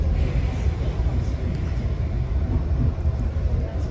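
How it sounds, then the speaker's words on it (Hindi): A local metro train runs through Seoul, a continuous low rumble and rolling wheel noise heard from inside the carriage, steady and moderately loud throughout. "और इस तरह ट्रेन भी जाते हैं, देखो इस तरह जो है ना स्टेशन आ जाते हैं।"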